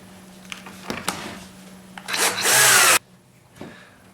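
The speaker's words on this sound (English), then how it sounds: "Just got the last screw in there" Power drill driving 1¼ inch fine-thread Kreg pocket screws into oak, short trigger bursts followed by one sustained whirring run as the screw seats, close and loud amid light handling clatter.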